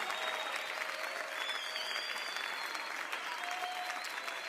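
Applause from a congregation at a family church meeting, a continuous crowded patter of many hands that holds evenly throughout, with faint tonal music lingering underneath.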